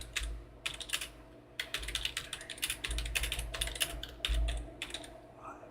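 Computer keyboard typing at a trading desk: bursts of rapid, crisp key clicks in clusters with short pauses, close and fairly loud, continuing for several seconds with no talking.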